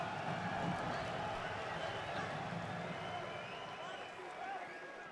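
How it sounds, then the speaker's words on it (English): A crowd cheering at a fight for Krušić in a clinch-heavy bout, heard as a dense, sustained roar of voices that fades slightly toward the end, with a commentator-like voice mixed in. "Cheers from the crowd"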